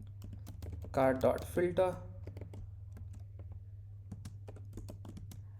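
Code being typed on a computer keyboard: scattered light key clicks, close and fairly quiet, with a brief spoken phrase near the start over a low steady hum.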